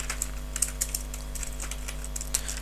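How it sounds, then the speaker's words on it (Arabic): Fingers type on a computer keyboard, giving irregular bursts of crisp, close key clicks over a low steady hum. "نكتب embed ونكتب width height"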